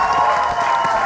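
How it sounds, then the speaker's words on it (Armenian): An audience applauds and cheers for Bagrat at a lively show, a loud continuous burst of clapping filling the whole short moment. "Դե, մի հատ բարձր ծափերով"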